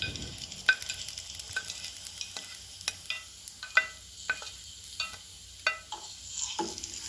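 Drumstick pieces being stirred into grated coconut frying in a pan for a Kerala-style thoran, with scattered spoon scrapes and clacks over a soft sizzle, close and fairly quiet.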